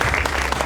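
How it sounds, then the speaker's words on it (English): Audience applause at an India Republic Day banquet and cultural program, a brief dense burst of clapping from a crowd, loud and steady with a faint voice underneath. "And you can applaud."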